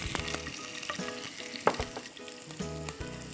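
Chopped onion fries in hot oil, a crackling sizzle interrupted by clinks and a sharp stirring knock near the middle, close and fairly quiet.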